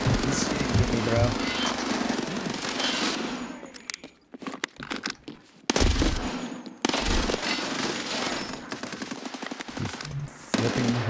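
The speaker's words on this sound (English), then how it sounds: "He's shooting me, bro." Rapid automatic gunfire in the Escape from Tarkov Arena video game, loud bursts in quick succession broken by short pauses, with bursts of talk mixed in.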